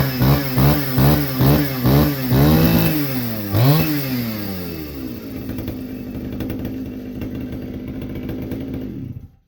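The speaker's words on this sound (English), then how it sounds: "See this saw running? It's a Pioneer!" A small Pioneer chainsaw engine revs in several sharp bursts, then settles into a loud, steady running drone before cutting off at the end.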